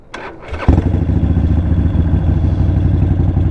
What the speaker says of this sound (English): Just gonna turn the bike on.